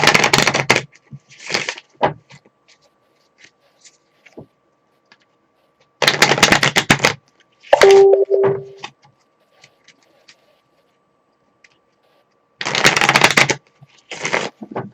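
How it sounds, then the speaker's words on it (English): A deck of reading cards being shuffled by hand in several short, crisp bursts of riffling, separated by quiet pauses, close and fairly loud. "gonna go ahead and start the shuffle again."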